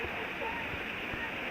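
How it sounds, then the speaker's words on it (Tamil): River water at the Kodiveri river rushes and flows steadily in a continuous broad wash, with a voice faintly present in the mix. "தண்ணி இப்படி ஓடுது."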